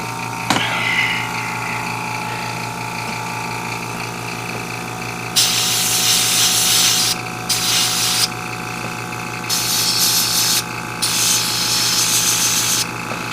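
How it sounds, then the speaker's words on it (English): An airbrush compressor running while a model kit, a 1/100 MG Freedom Gundam, is painted: a steady close mechanical hum throughout, with louder hissing bursts of spray starting and stopping several times. "Let me turn on the compressor a bit."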